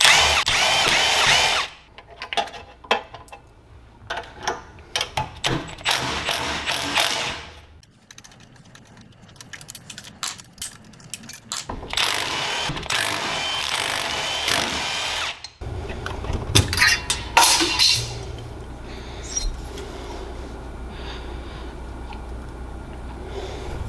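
Power tools and a ratchet work on pulling the cylinder head off an engine that won't start, with bursts of drill-like whirring and rattling broken by short pauses, loud and close.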